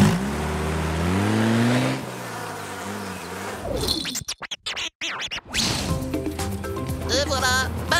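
A cartoon car revving and driving off, with buzzing fly noises, scratchy effects and animated voices talking over a busy, loud mix of sounds.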